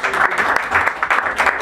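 Close, loud applause from an audience at a live Spanish-language peña music gathering, a dense burst of clapping hands with uneven swells throughout.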